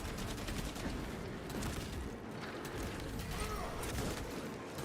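Sidearm fire in a video game, dense rapid shots in a continuous rattling stream layered over a noisy battle background, with faint voices mixed in.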